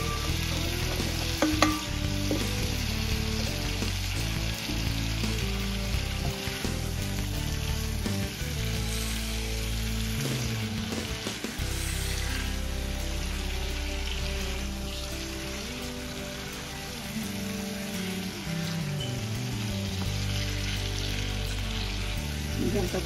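Eggs fry and are stirred in a pan, giving a continuous, fairly loud sizzle with repeated stirring scrapes over a steady tonal background hum.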